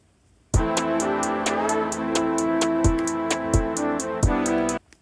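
A trap beat built in Soundtrap plays with counter snares added, showing crisp rapid hi-hats ticking steadily, booming 808 kicks and sustained synth tones, loud and upfront for several seconds before stopping abruptly.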